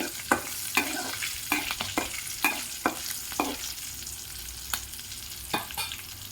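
Green chillies fry with salt in oil for lemon rice, a steady low sizzle broken by regular scraping taps of a spoon against the pan, roughly every half second, with no talking.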